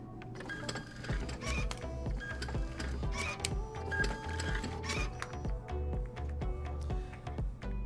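A Zebra ZT610 industrial label printer with cutter option runs continuously, feeding and cutting labels with rhythmic mechanical whirring, clicks and sharp snips, close and steady throughout.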